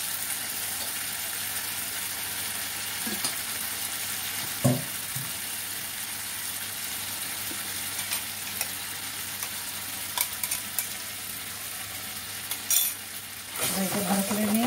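Tomato with a splash of water sautéing in a pan for jackfruit kofta curry, a steady soft sizzle with occasional spoon taps and a clink of utensils near the end, close and without talk.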